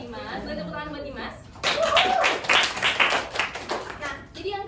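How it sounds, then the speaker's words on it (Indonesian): Schoolchildren in a classroom break into a burst of clapping for a classmate, a dense cluster of hand claps following a teacher's voice, with talking resuming as the clapping fades. "Boleh tepuk tangan buat Dimas"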